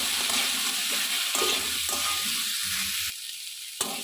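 Potatoes seasoned with salt and a pinch of turmeric are stirred in a hot pan, giving a steady close sizzle with scraping strokes for about three seconds before the frying dies down to a quieter hiss.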